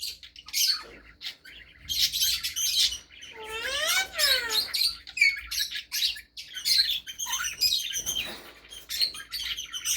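Colorful breeding parrot in a cage, chirping and squawking in rapid sharp bursts with a few rising-and-falling whistled calls, close and busy throughout.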